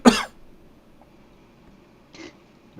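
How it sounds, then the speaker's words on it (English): A sharp cough bursts out at the start, then near silence, followed by two more short throat sounds later on. "Man's just coughing up a storm."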